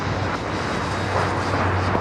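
Jet aircraft engines roar in a broad, continuous rumble during a takeoff at LAX, loud and steady with no voices over it.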